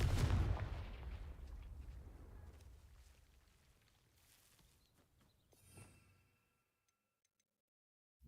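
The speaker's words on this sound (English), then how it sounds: "Confringo!" A Confringo fire spell blast in Hogwarts Legacy: a loud burst at the start that rumbles and decays over several seconds, then a smaller crackling flare near the end before the sound falls to near silence.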